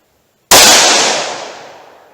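A single sharp gunshot from a snub-nose .357 revolver firing Hornady Custom ammunition, a loud close crack at once followed by a long decaying ring-out.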